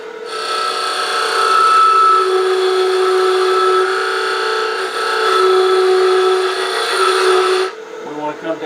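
A skew chisel takes a peeling cut on spinning wood on a lathe, giving a steady, loud scraping hiss with a high tonal whine that holds for several seconds, then stops abruptly and leaves quieter shuffling.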